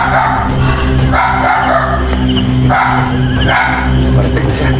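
A dog barks in loud, repeated bursts about once every second or so over a steady low hum, in a horror film scene.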